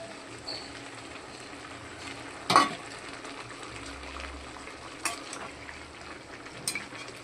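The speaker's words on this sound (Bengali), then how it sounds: "এটা একটু কষানো হবে" Spiced mutton curry masala with ground spices, salt and paste frying in a pan, a soft steady sizzle broken by a few clanks of a spoon against the metal.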